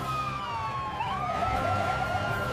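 A police car siren wails steadily, its pitch sweeping up and down over a background of vehicle and engine noise, fairly close and loud with no talking.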